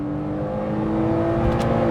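Porsche Boxster 987 flat-six engine hums steadily from inside the car while driving, a smooth, even drone with tonal bands and light road noise, no voices.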